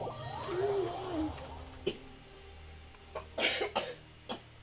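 A young child coughs indoors, a few short dry coughs following a moment of babbling vocal sound, with quiet background noise.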